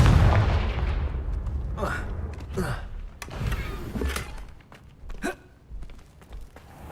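Hogwarts Legacy Confringo blasting spell explosions: a heavy boom at the start fades into a series of sharp, crackling blasts and whooshes spaced a second or so apart, each loud and close.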